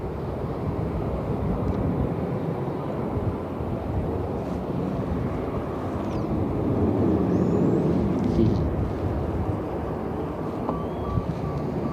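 A CRJ regional jet at Cleveland airport produces a broad, steady low jet roar with wind rumble, swelling slightly midway, heard from an outdoor spotting spot with no voices.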